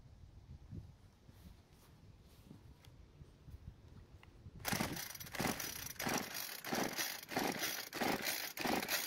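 A Homelite string trimmer being pull-started without firing: after a quiet stretch of faint rustling, a series of rapid recoil-cord pulls ratchets and whirs in a steady rhythm, loud and close.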